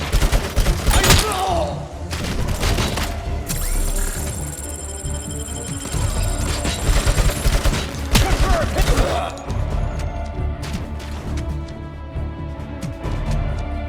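Dense gunfire in the shooter game RoboCop: Unfinished Business: rapid bursts and heavy thuds fill the whole stretch, loud and near, with game effects and occasional speech woven in.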